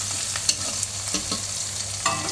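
Bitter gourd fries in a pan, giving a close, steady sizzle broken by several quick scraping stirs.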